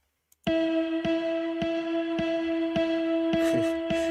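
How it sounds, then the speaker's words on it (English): An electric guitar melody from a breakdown, sustained and effected, starting after a brief tick with a steady tone and soft rhythmic picks every half second, quiet and solo. "an electric guitar"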